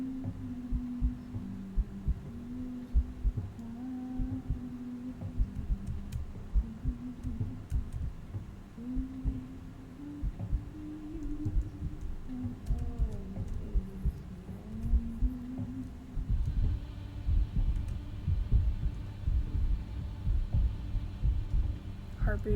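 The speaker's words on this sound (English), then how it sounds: "Heartbeat is getting louder." A low, throbbing heartbeat in the horror game After The Curtain Call pulses steadily under a droning hum, with quiet talk and soft clicks scattered throughout, growing somewhat stronger toward the end.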